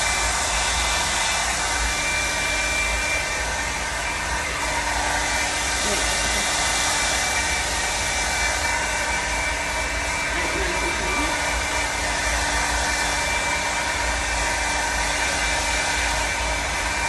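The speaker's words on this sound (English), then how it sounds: "I'm just gonna use a cool dryer." A hair dryer on a cool setting blows steadily over skin during a body-contouring tape treatment, a continuous close whooshing airflow with a constant hum throughout, no pauses.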